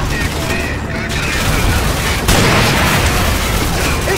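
Gunfire and explosions from the Call of Duty 4: Modern Warfare video game form a loud, dense battle din, continuous bursts and booms with shouted voices mixed in.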